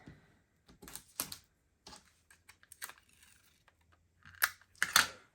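Small craft scissors make a scattered series of crisp snips and clicks through paper, close up, with quiet pauses between the cuts.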